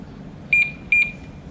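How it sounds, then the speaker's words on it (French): Two short electronic double-beeps from a BMW CE 04 electric scooter arming its alarm, high-pitched and clear, spaced about half a second apart over faint background noise. "L'alarme vient de s'enclencher"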